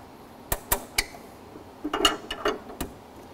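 A ratchet snugs down the upstream O2 sensor in the exhaust manifold of a 2012-2016 Subaru Impreza. There are a few sharp, separate clicks, then a quicker cluster of ratcheting clicks. They are close and moderately loud, with no talking.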